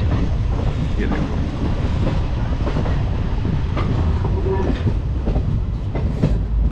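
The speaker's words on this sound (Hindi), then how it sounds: "हमारी जो ट्रेन है वो डिब्रूगढ़ से अब निकल चुकी है।" A passenger train rolls along after departing Dibrugarh, a loud steady rumble with rhythmic clickety-clack of wheels on rail joints and some wind buffeting the microphone, heard from inside the carriage.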